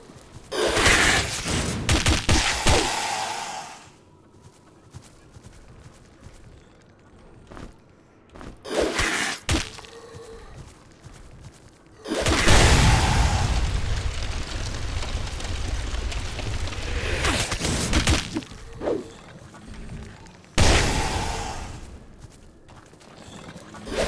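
Bombs exploding in the dungeon game Grimrock II arrive as loud, crackling bursts at irregular intervals, some long and rumbling and others short, with quieter gaps between them.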